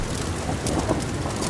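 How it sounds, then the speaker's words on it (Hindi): Heavy rain pours in a cartoon forest scene, a dense, steady hiss with a low rumble of thunder beneath, fairly quiet and without voices. "बारिश अपने जोरों पर थी और देखते ही देखते जंगल में बाढ़ आ गई।"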